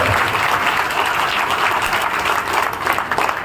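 Steady, loud applause from a large crowd at a political rally in Godda, dense clapping filling the whole stretch without pause.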